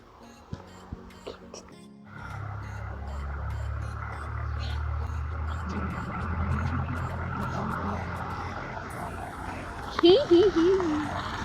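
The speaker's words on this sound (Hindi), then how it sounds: "ये हमारा गाड़ी का ही साउंड है, मुझे पता है" A family car pulls up, its low engine rumble rising in from a quiet start and holding steady for several seconds, while people talk nearby and a brief voice comes up near the end.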